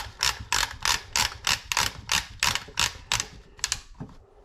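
Cap being screwed back onto the magazine tube of a Remington 887 shotgun, giving about ten crisp, evenly spaced metallic clicking ratchets up close before it stops.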